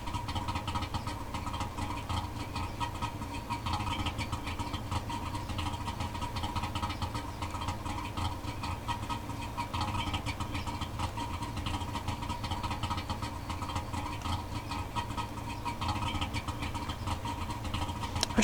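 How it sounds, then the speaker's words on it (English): A car engine idles steadily in a driving video game, a continuous low rumble with an even mid hum running unbroken and fairly loud, with no talk over it. "At least I can give the engine a break a little bit from singing at redline"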